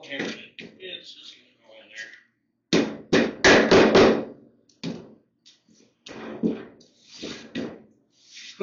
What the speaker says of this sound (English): we'll hammer it